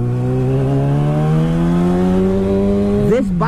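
A Yamaha FZ-09 motorcycle fitted with an M4 exhaust revs hard and close, its engine note climbing steadily for about three seconds before snapping off abruptly.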